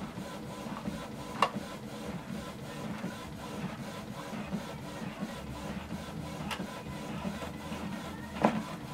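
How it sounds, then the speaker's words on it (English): Canon TS5320 inkjet printer running off a copy, a steady low mechanical whir with soft paper-feed rustle and a few sharp clicks, close and fairly quiet throughout. "You can see the printer is a bit slow"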